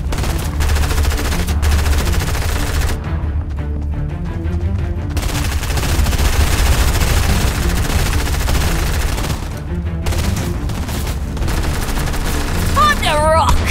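Sustained gunfire in a Fortnite battle, dense rapid shots running continuously under a loud game mix with music and effects, with a brief whistling sound near the end.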